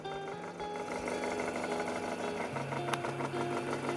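A homemade free-energy generator system with an electric motor runs steadily, a continuous mechanical whir with a low rhythmic hum and faint rattling, close and even throughout.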